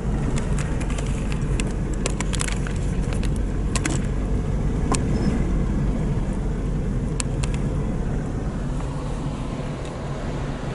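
Car driving along a coastal road by a beach, a steady low rumble of engine and road noise throughout with faint bird calls and small rattles above it.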